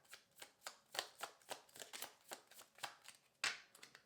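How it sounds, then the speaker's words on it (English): Tarot cards are shuffled by hand in a quick run of about a dozen crisp riffling bursts at a steady rhythm, close and quiet, with no voice. "One more shuffle."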